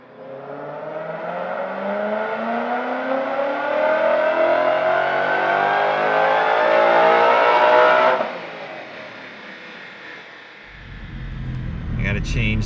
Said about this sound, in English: So I'm gonna get all my data logging going and make a dyno pull.